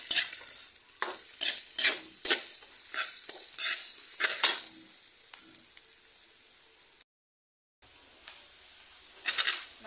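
Carrots are stir-fried for pancit in a hot pan, giving a steady sizzle broken by repeated scraping stirs. The sound cuts out briefly, then the frying resumes.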